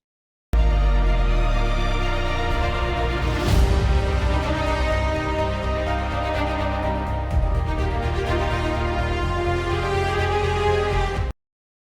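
An orchestral reference mix plays steadily with full, layered instrumental harmony that swells and holds at a strong level throughout, with no voices over it.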